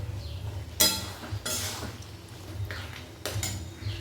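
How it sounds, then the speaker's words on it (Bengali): Peas for ghugni being stir-fried with spices in a pan: a few scraping, clattering strokes of a spatula against metal over a low background hum, spaced irregularly. "এবারে কিন্তু মশলার সাথে খুব ভালো মতো মটরটাকে কষে নেব।"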